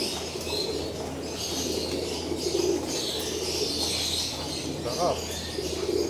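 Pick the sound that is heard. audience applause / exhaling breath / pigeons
pigeons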